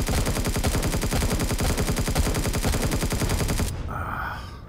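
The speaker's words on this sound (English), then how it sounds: "Shoot at me instead, not my ship." Rapid, steady automatic gunfire in the Empyrion space survival game, a loud machine-gun rattle of evenly spaced shots that runs for several seconds before cutting off abruptly into quieter ambience.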